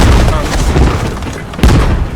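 A tank blows up in the military shooter Squad with a loud, sustained booming rumble that fills the clip, and a second heavy burst hits near the end.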